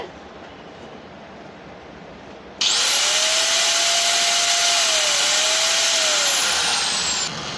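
A MAY KOP heavy-duty belt-model angle grinder is switched on after a stretch of faint background noise and runs at full speed, a loud, steady high-pitched whine that holds for several seconds.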